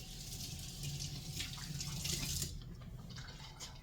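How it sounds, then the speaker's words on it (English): Hands are washed under a running kitchen tap, a soft, close stream of water splashing and hissing for a few seconds before easing off. "let me wash my hands again"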